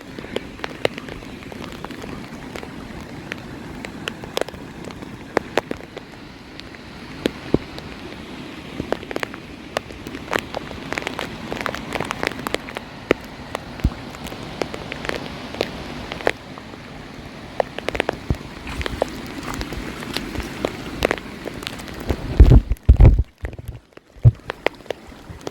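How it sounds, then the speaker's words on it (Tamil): Rain falls steadily at Misty Point in Valparai, a dense patter of drops with scattered sharper taps and a few louder knocks near the end, with no talk. "மழைத்துளி வேறு விழுந்துகிட்டே இருக்குங்களா."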